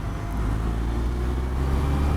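Victory electric motorcycle accelerating with a steady, smooth drone and road rumble, no combustion beat, holding a constant close level throughout with no talking.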